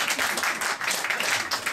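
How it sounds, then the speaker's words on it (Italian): Applause from an audience at an Italian book presentation of a crime novel, a dense steady patter of many hands, fairly loud and continuous through the short stretch. "Se volete applaudire, fatelo"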